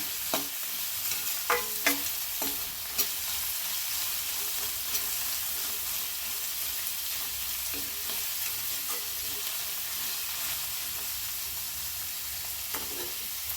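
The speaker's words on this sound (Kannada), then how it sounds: "ಚೆನ್ನಾಗಿ ಫ್ರೈ ಆಗಲಿ." Vegetable fried rice in a pan gives a steady, loud sizzle, with occasional scrapes and clinks from stirring and no voices over it.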